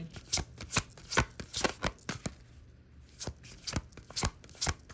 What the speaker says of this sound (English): let's get an Archangel Michael card